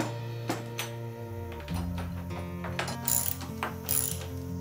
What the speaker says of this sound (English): the best way to get these D-ring bolts out is to break them loose with a socket